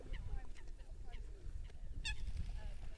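White swans honk in a few scattered, nasal calls amid steady low outdoor rumble and background murmur, moderately close.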